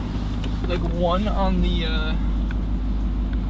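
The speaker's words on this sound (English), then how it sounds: "since it's just been sitting here idling right now" A 2022 Ram TRX truck engine idles with a low, steady rumble beneath someone talking inside the cab.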